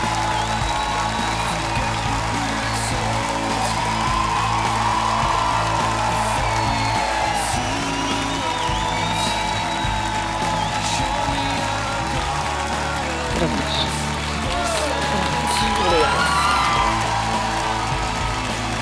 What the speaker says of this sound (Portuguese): Um aplauso para o Carlos